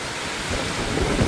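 Heavy rain pours down during a strong storm, a dense, steady hiss of water that grows slightly louder toward the end, with no talking.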